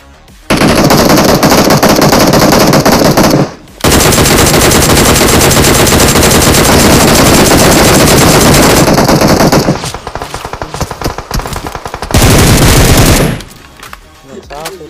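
Sustained automatic fire in PUBG Mobile, long loud rattling bursts of rapid shots with brief gaps, a close, dense spray broken by short pauses and a final burst.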